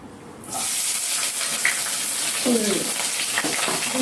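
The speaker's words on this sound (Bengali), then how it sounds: "এখন ওই তেলের মধ্যে আমি পেঁয়াজ কুচি কুচি করে কেটে যাচ্ছি, ওগুলো দিয়ে দেবো" Chopped onions go into hot oil in a home kitchen, where a sudden strong sizzle starts and keeps going as steady frying, with light stirring and scrapes on top and no voices.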